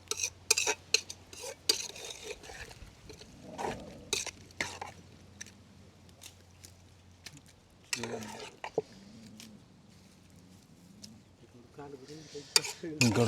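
Bamboo shoot curry stirred in a pan, a spoon scraping and clinking against the metal in irregular bursts with a faint sizzle underneath, no talk over it.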